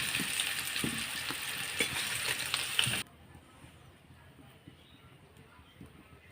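Potatoes fry in a wok with a loud, close, crackling sizzle for about three seconds before the sound cuts off abruptly to a quiet room.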